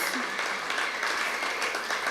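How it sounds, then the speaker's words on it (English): A live-stream audience gives a round of applause for a group of women, a short, steady wash of clapping at moderate level. "Please give them a round of applause."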